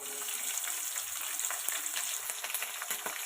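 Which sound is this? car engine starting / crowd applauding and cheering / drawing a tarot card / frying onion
frying onion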